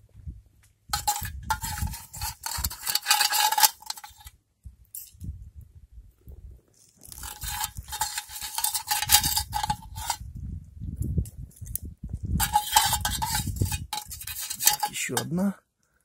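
Metal spoon clinking and scraping in bursts against a pot of molten lead, removing iron bits and slag, three separate stretches of bright metallic rattling with quiet gaps between.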